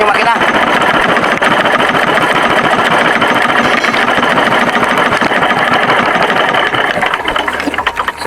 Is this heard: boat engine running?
yes